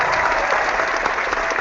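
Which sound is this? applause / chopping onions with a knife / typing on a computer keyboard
applause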